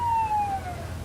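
Ambulance siren at a 1988 cycling race, a single wailing tone falling steadily in pitch as it passes, moderately loud over a low rumble of crowd and traffic.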